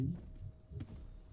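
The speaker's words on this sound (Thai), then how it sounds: "เสียงหัวใจ" Heartbeat effect in the Roblox horror game Doors: a few low, muffled thumps in a slow, uneven throb over a faint steady hum, with no talking.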